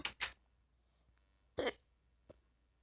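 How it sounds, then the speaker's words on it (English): Sharp, sudden hiccups sound close by in a quiet room, a quick pair at the start followed by a louder single hiccup and a faint one after, with near silence between. "Have the dang hiccup."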